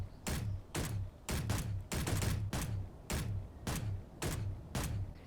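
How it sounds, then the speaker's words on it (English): S20E elite pistol firing in the game Space Engineers, about a dozen sharp shots in quick, fairly even succession, each a punchy crack with a short low thump, close and alone. "the final pistol that's been added is the S20E"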